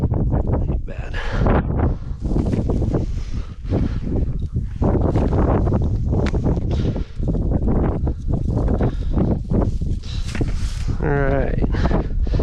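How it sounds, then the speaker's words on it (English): Gusty wind buffets the microphone outdoors at a trapping site where peat moss is blowing off a set, a steady low rumble running throughout with a voice briefly over it. "See, it's pretty windy"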